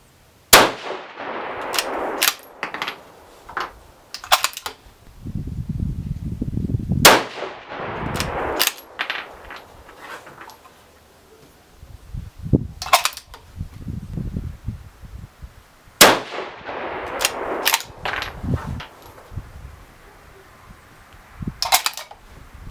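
A five-shot rifle group fired from a loaded bipod, heard as sharp, loud reports several seconds apart, each with a ringing clang, separated by quieter handling and shuffling noises.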